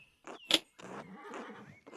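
A horse in the medieval-set video game Pentiment gives a short whinny and snorting breaths, a few quick bursts over about two seconds, fairly quiet and with no talk over it.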